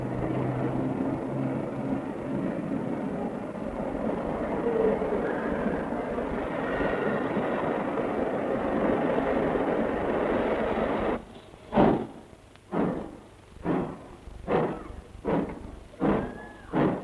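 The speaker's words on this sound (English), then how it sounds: "trains such as this carry the Queen Elizabeth's passengers straight to London" Steady rumble of a passing passenger train at Southampton in 1961, then a rhythmic series of clacking wheel beats over rail joints as carriages roll by.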